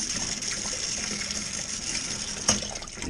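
Hot water hisses steadily from a knob-operated jet washer rinsing mead bottles, with a short sharper spurt partway through; no voices.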